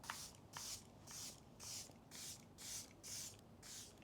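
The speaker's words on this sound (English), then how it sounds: "I would recommend covering them while you spray your makeup setting spray" Makeup setting spray misted onto a face in eight quick, evenly spaced bursts, each a soft hissing puff close to the ear, alone without talk.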